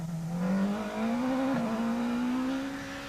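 A Monster Energy Ford Fiesta S2000 rally car drives a stage of the Tour Natal 2012 rally. Its engine pitch climbs steadily as it accelerates through the gears, loud and fairly close, with a brief dip mid-run and no talk.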